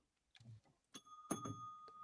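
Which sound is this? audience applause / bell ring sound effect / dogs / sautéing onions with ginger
bell ring sound effect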